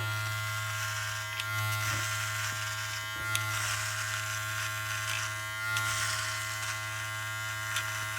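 A Beardscape electric head shaver runs close and steady at a higher speed setting, its motor hum and buzzing blades continuous with brief scraping bursts as it passes over the scalp.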